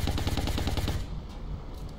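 Rapid bursts of gunfire from a shot taken in the strategy game XCOM Long War, a fast rhythmic volley of loud reports for about a second, then fading into a lingering rumble with no talking.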